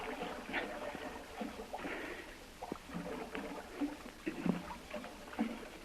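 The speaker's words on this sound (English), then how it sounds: "It may take quite a while to paddle around the island." Wooden paddles dip and pull through water beside a canoe, with soft splashes and gurgles repeating in an irregular rhythm, close by and moderately quiet, with no voices.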